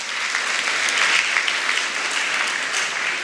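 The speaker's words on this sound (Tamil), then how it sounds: "கைத்தட்டிய 60 பேருக்கு மிக்க நன்றி." An audience at a Tamil speech event claps, a dense, steady wash of many hands applauding together, close and fairly loud, holding evenly throughout without voices.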